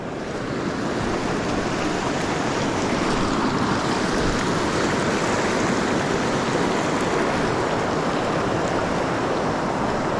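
River water rushing over and around rocks where the current pours into a deep pool, a loud, continuous broadband roar heard up close with no talk.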